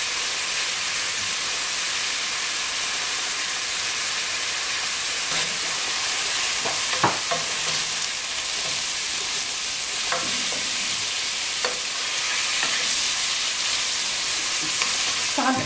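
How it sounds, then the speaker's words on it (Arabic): Onion fries in a pan with a constant bright sizzle and hiss, stirred now and then with faint scrapes and clinks, close and steady throughout without speech. "غنخليو هاد البصلة هادي تنزل الزبال يعني تماما"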